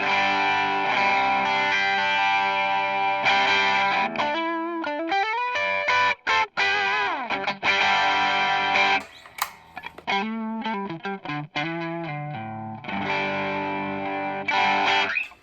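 Electric guitar through a Dumble-style overdrive pedal with a thick overdriven tone, sustained chords and melodic runs with a few brief pauses, loud and close, no voices.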